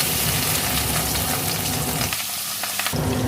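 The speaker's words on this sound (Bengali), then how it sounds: "দু পিস মাছ নিয়েছি রুই মাছ লবণগুলো মাখিয়ে নিয়েছি ভেজে নেবো" Two salted pieces of rohu fish sizzle steadily in hot oil. The crackle is loud and continuous, thins briefly near the end, then surges back.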